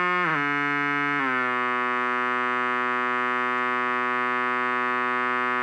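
EMS SYNTHI synthesizer oscillator holding a steady buzzy tone rich in harmonics, dipping in pitch twice early on and then sustaining unchanged and loud to the end, with no voices.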